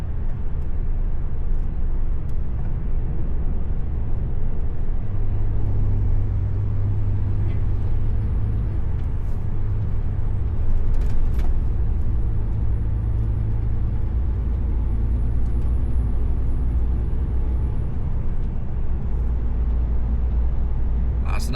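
Steady low engine rumble and road noise from a car driving through London traffic near Tottenham, continuous and even throughout with faint passing vehicle sounds and no talking.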